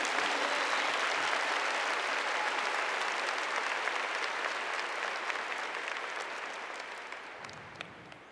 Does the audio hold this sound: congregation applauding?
yes